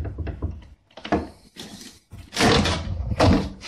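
An old door in an abandoned building is forced open, with wooden knocks and thuds, a scraping push and then loud grinding and banging bursts, close and fairly loud.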